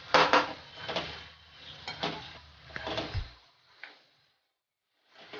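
Okra bhaji being stirred with salt in a pan, a spoon scraping and clinking against the metal in a few close, uneven strokes before falling quiet.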